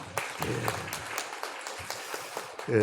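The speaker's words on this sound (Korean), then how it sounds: "우리 좀 박수 한번 하십시다." Church congregation clapping together during a Christmas Day thanksgiving service, a brief steady patter of many hands that tapers off, with a voice starting at the very end.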